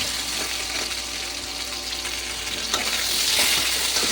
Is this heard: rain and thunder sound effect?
no